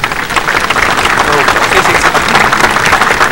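Loud, sustained applause greets an official guest at an inauguration event, with a crowd clapping steadily and voices mixed in underneath.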